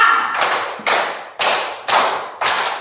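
A slow series of five crisp claps from children, evenly spaced, each with a short echoing tail, and no talking.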